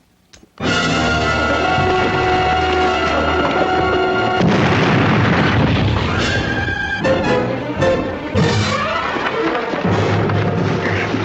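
A hand grenade explodes after being dropped, a loud booming blast with heavy low rumble that carries on for several seconds, followed by scattered crackling debris and further rumbling.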